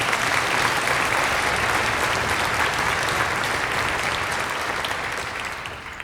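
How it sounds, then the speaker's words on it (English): Sustained applause from a concert audience for a regional symphony orchestra, a dense, even wash of clapping that holds steady and tapers slightly at the end. "give them a round of applause again"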